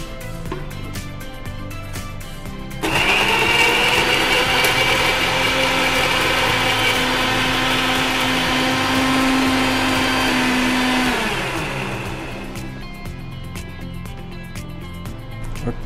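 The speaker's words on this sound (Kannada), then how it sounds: "ಆಮೇಲೆ ಸ್ವಲ್ಪ ನೀರು ಹಾಕಿ ಗ್ರೈಂಡ್ ಮಾಡುವ, ಸ್ವಲ್ಪ" A mixer grinder whirs loudly for several seconds as it grinds tomatoes with a little water, starting abruptly and winding down, with quieter kitchen ambience before and after.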